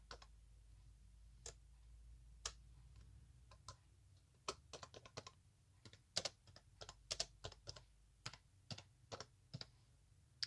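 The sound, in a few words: typing on a computer keyboard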